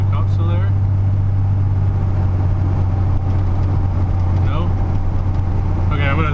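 A 1994–2002 Dodge Ram truck drives along with a steady, loud engine drone, and the transmission shifts through gears after a kickdown cable adjustment; someone talks over the engine.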